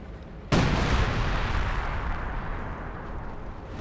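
Artillery fire in the Company of Heroes 2 real-time strategy game: one heavy boom hits after a brief lead-in and rolls into a long, loud rumbling decay that fills the rest of the moment.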